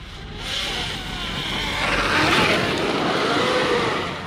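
An Arrma Kraton 8S RC car with a Dynamite 5682 1200KV motor runs at nearly full throttle, its loud motor whine swelling and fading as it drives past and away outdoors.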